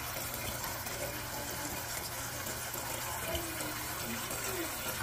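Water flows steadily from a Samsung refrigerator dispenser after a filter change, a full-pressure gushing stream filling a container, continuous and close, with no talking.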